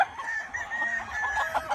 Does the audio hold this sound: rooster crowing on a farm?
yes